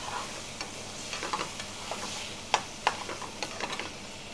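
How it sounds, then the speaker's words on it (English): Saag aloo potatoes frying and sizzling in a pan, a steady soft hiss broken by the scrape and clack of a spoon stirring, close and without talk. "because of the starch content of the potatoes, it will probably need a bit more stirring than usual"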